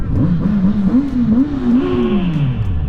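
A Kawasaki Z900RS motorcycle's exhaust revs and accelerates, a loud close engine note climbing and wavering in pitch before sliding down as the throttle eases, with no speech over it.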